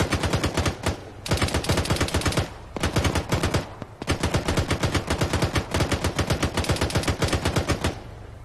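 Loud, close bursts of automatic gunfire from guns laying suppressive fire during military platoon convoy training, rapid rhythmic shots in long strings broken by brief pauses.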